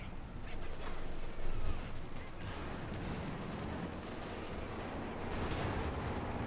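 Gunfire rattles through a Company of Heroes 2 match between Wehrmacht and US forces, with scattered distant shots and machine-gun bursts under steady, low-level battle noise.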